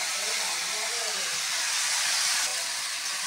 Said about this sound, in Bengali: এবার মোচাটা দিয়ে দিলাম।